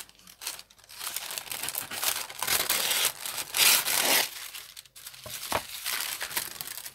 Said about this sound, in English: I'm just going to cut this tracing paper down.